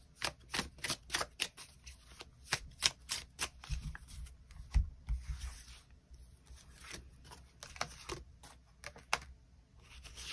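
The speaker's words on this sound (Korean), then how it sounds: "추가 카드 뽑아보도록 하겠습니다" Tarot cards being shuffled and drawn at close range: a run of quick, crisp riffling and slapping bursts with brief pauses between, soft rubbing of card stock in the gaps, and no talking.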